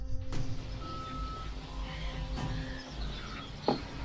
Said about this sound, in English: Sound like a crow.